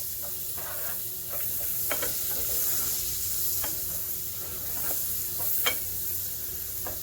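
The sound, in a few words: mushrooms and onions sautéing in butter in a pan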